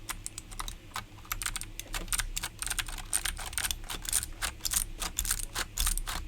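Dense, rapid clicking and clacking as keycaps are pressed onto an inexpensive mechanical keyboard, with close, irregular snaps overlapping throughout and no talking.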